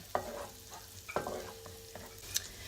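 Garlic, ginger and red pepper frying in a pan for orange chicken, stirred often; quiet background sizzle with a few sharp scrapes and clacks of a utensil against the pan, no voices.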